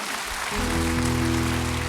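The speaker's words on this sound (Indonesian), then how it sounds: "Berikan tepuk tangan buat Tuhan" Applause from a church congregation during a worship service fills the air as a steady, close wash of clapping, with instrumental music entering underneath after the first half second.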